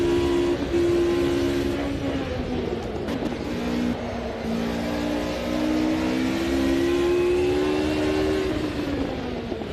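A Mercedes racing car screams around the Nordschleife in the sim game Automobilista 2, its engine a steady high-revving drone that rises and dips in pitch through gear changes and corners, loud and continuous with no voices.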